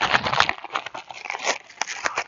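Heavy paper bag of Sakrete fast setting concrete mix being torn open, giving brief crinkly ripping and crackling bursts up close.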